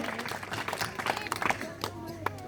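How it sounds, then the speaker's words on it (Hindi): A village gathering at a panchayat hall applauds a child, scattered clapping in uneven bursts mixed with voices and a speaker talking over it. "जोरदार ताली बच्चे के लिए"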